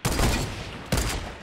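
Gunfire in the video game Fortnite: two loud bursts of rapid shots, the second following close after the first, each trailing off quickly, with no talking.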